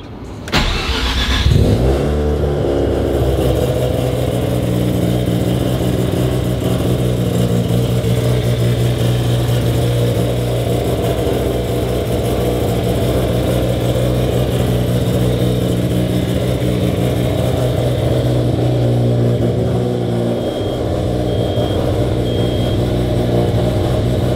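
A Mazda RX-7 FD engine catches after a brief start at the outset, then settles into a loud, steady idle that runs uninterrupted for over twenty seconds, close by, with no voices.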